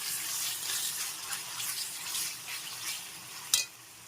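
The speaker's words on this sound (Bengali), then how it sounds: "এবার আমি এর মধ্যে দিয়ে দিচ্ছি চিকেন একটু নেড়ে ছেড়ে মিশিয়ে নিচ্ছি" Chicken pieces stirred into a pan of fried spice masala for chicken pulao, giving a steady broadband sizzle with scraping stir sounds and a sharp clink near the end, no voices.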